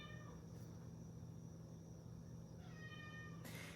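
A house cat meows softly a couple of times, faint and fairly close, over a steady low hum and faint background noise in an art studio, with no speech.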